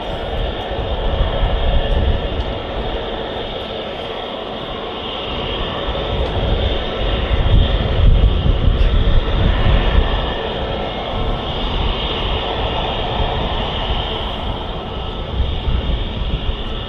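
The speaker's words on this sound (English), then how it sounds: "Turkish Airlines A321 heading off to Istanbul" Turkish Airlines Airbus A321 with Pratt & Whitney engines departing Manchester Airport, a loud, steady jet roar that swells and holds throughout with broad rumbling noise and a faint whine.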